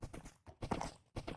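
Horse hooves clip-clopping in the Minecraft video game, three quick bursts of soft clopping steps separated by short gaps, faint and fairly close, with no talk over them.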